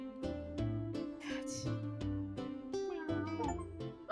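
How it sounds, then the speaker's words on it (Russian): Several cats in Georgia meow in drawn-out, tonal cries that overlap and repeat over a few seconds, fairly close and clear, with little talk. "Четыре кота!"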